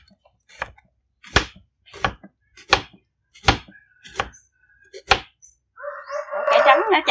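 A knife slices through white radish (daikon) on a cutting board, giving about seven sharp, evenly spaced chops close by, then a brief sizzle or clatter at the end.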